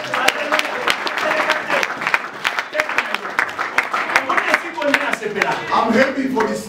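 A church congregation applauds in praise of the Lord, with dense, loud, sustained clapping and voices cheering throughout.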